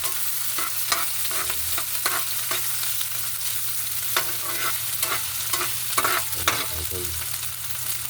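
Onions frying with corned beef in a pan, a soft continuous sizzle broken by repeated scraping strokes of a spatula, close and moderately quiet.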